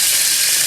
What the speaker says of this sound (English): I love that sizzling sound, by the way, guys.